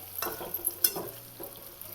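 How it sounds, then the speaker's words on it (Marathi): Stuffed bitter gourd (karela) frying in oil in a pan, a low sizzle broken by a few scraping stirs and soft clatters, close by with no one talking. "आपलं ही कारलं तेलात तळून फ्राय झालेला आहे"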